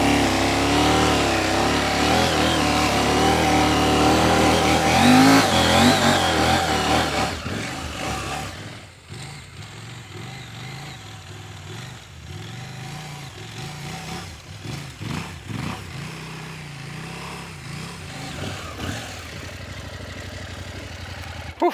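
A motorcycle engine pulls hard in second gear through sand, with loud, rising revs that drop off sharply, then return as uneven bursts of throttle.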